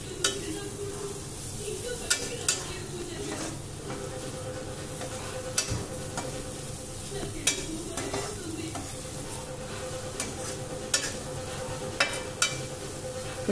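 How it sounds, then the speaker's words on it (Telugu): Coriander powder fries in a pan while being stirred, giving a low, continuous sizzle broken by sharp, regular scrapes and taps of the spoon against the pan every second or so. "ధనియా పౌడర్ది ఆ పచ్చి వాసన పోయేంత వరకు అయితే కాస్త కుక్ చేద్దాం."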